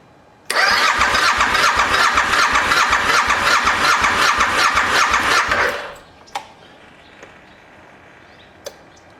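A Suzuki V-Strom DL1000 engine cranking over at full throttle during a compression test, loud rhythmic starter pulses for about five seconds that stop abruptly, followed by a few faint clicks.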